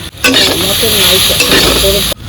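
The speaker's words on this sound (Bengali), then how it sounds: "অল্প জল দিয়ে কষিয়ে নিচ্ছি" Spiced singara potato filling with turmeric, cumin, coriander and chili powder stirred and sautéed in a pan with a little water, giving a steady close sizzle with scraping spatula strokes throughout.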